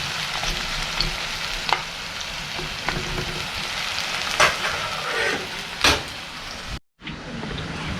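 Onions fry in a pan with a loud, steady crackling sizzle and a few stirring scrapes, broken by a brief cut near the end.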